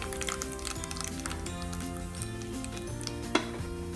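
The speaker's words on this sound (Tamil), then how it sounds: "எண்ணெய் காஞ்சதும் கடுகு சேர்த்துடலாம்" Mustard seeds splutter and sizzle in hot sesame oil in a pan, a steady crackling fry with a single sharp pop near the end.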